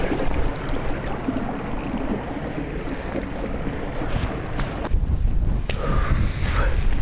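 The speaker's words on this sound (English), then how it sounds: "The wind's sort of coming this way, but I have got quite a bit of shelter." Wind buffets a coastal wild camp in cold, wet weather, a constant rough rush of gusts against the microphone that strengthens in the second half, with faint surf-like noise beneath.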